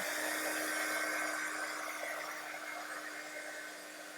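A hand-held dryer blows steadily over wet mixed media artwork, a loud continuous close whir with a constant tone that eases slightly toward the end, no talking.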